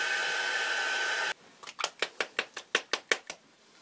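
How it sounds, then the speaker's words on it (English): A dryer blows steadily and loudly to dry acrylic paint between layers on a mixed-media portrait, then cuts off abruptly, followed by about nine quick close knocks or taps. "I'm going to dry in between each layer so I don't lift the paint."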